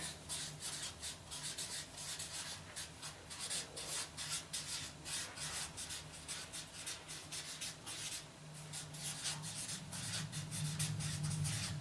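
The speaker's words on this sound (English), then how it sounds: "So I'm just going to write down a few of the things." Pen writing notes by hand on paper, a steady close scratching and rubbing with rapid repeated strokes running throughout, quiet with no talk.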